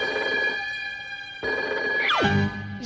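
A cartoon telephone rings with a steady electronic bell tone that cuts off briefly and resumes, followed by a sweeping cartoon sound effect, fairly loud with no talk.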